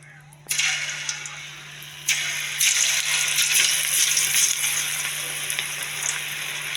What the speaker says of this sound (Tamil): ஊறின பிறகு நம்ம எண்ணெயில் 65 போட்டு எடுத்துக்கலாம்.